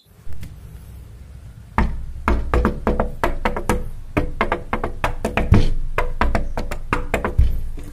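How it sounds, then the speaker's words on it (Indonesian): Knuckles rap a door with a couple of early knocks, then a long flurry of loud, close, drum-like beats in brisk marching-band rhythm, some blows heavier and more booming than others. "Kedelapan, mengetuk pemain marching band."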